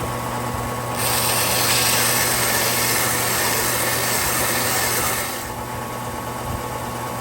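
Steady high-pitched grinding hiss of agate pressed against an 8,000 grit polishing belt on a running machine, rising for about four seconds in the middle, then easing back to a softer whir with a constant motor hum underneath.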